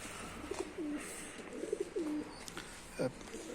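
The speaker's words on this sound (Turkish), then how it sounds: "Bol taklalı çok uzun giden bir güvercin bu arkadaşlar." Several soft Mardin tumbler pigeon coos come in short bursts, a few throaty calls spaced apart over a faint, noisy outdoor background.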